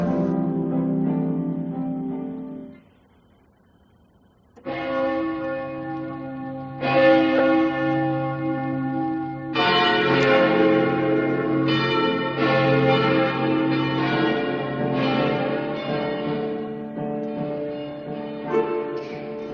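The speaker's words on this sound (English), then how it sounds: "The church bells of Santo Domingo are heard from the distance" Church bells of Santo Domingo ring from a distance in a steady series of strikes, resonant and sustained, with a brief pause early before the peals resume and overlap.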